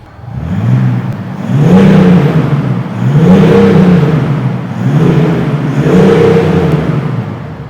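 A 2026 BMW X7 diesel fitted with a Larte Design bodykit is revved several times, each rise a deep swelling engine note, loud and near, with no voices over it.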